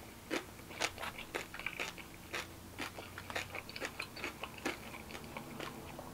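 Crunchy Filipino pork pieces are chewed close to the mouth, a steady series of crisp, crackling bites and crunches repeating at an irregular rhythm, fairly quiet with no talking.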